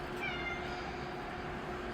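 A cat named Jonesy meows faintly, a short rising call near the start set against a quiet outdoor background.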